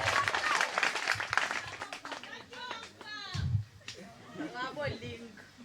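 Applause breaks out at a welcome Mass for new university students, loud clapping at first that fades into voices speaking over the thinning claps.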